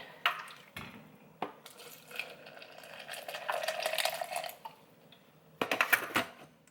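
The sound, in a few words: pouring water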